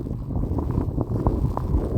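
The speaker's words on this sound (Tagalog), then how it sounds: "Sabayan pa ng malakas na hangin." Strong wind gusts during a snowfall in Montreal, rumbling and buffeting the microphone in an uneven low roar with a few soft knocks, steady and fairly close throughout.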